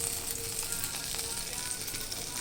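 Pumpkin flowers fry in hot oil, giving a steady, close, bright sizzle and crackle that holds evenly throughout with no voices.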